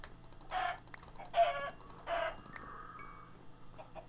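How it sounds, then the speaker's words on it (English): Chickens clucking in the Minecraft video game, three short bursts of clucks at a steady moderate level over a faint electronic hum, with no talking. "We need to find steak or chickens. Here's chickens."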